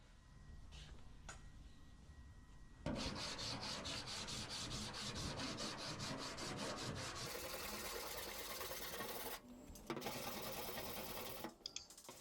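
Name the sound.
hand file filing down truck bedside body panel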